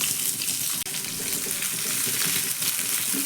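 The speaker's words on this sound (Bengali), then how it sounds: "পেঁয়াজটাকেও একটু এখানে ভেজে নিতে হবে" Chopped onion frying in oil with whole cumin seeds, a steady close sizzle with soft crackles throughout and no talking.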